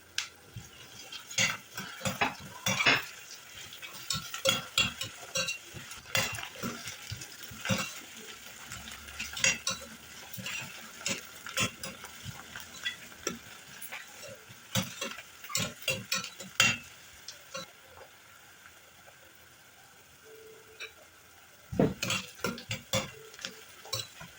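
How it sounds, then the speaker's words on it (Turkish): Carrots sautéed in a pot for a bean dish, with a spoon scraping and tapping in irregular, close clicks over a faint sizzle, with brief pauses between bursts of stirring. "Daha sonra üzerine havuçlarımızı ilave edelim ve kavurma işlemine devam edelim."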